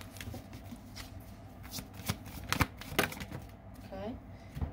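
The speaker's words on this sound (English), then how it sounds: "Let's pull some additional cards to get some more clarity here." A tarot deck is shuffled by hand close to the mic, a series of quick papery riffles and snaps with a short pause between bursts, while a voice talks lightly underneath.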